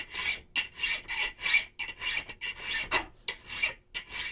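A metal file worked along a steel piece in blacksmith filing, giving about nine rhythmic rasping strokes, each a bright scraping burst with brief gaps between, close and alone.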